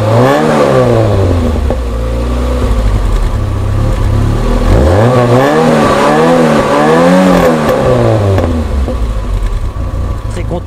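Renault Super 5 Baccara from 1989 with a small 1.7-litre carburetted engine, running loudly and close, revving up and down in repeated sweeps with gear changes, steady engine drone throughout.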